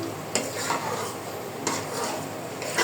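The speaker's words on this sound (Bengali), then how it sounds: "এখন আমরা এটা ভালো করে সব মশলা মিক্সড করব" Spices being stirred into khichuri made from leftover rice in a pot, a few distinct scraping strokes of a spoon against the metal over a low simmering hiss, close and without talk.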